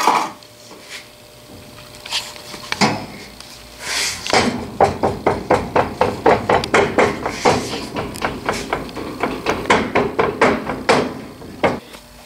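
Foundry sand is packed by hand into a mold for an aluminum casting. A long series of dull, regular thumps and packing strikes comes from close by, with a few scattered knocks before them.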